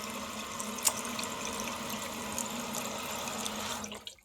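Water streams steadily into a refilling toilet tank, a constant hiss and trickle with a single sharp click near the start, ending abruptly as the flow shuts off.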